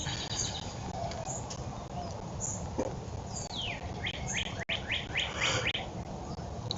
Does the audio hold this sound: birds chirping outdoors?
yes